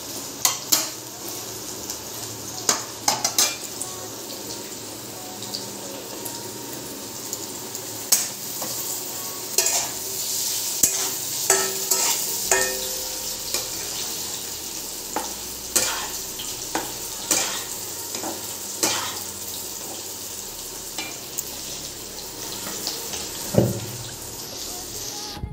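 Paneer tikola fries over a high flame in a pan, giving a steady sizzle with frequent sharp scrapes and clinks of a spoon stirring against the metal, close and fairly quiet, with no talking.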